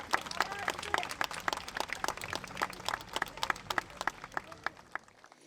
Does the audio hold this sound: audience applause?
yes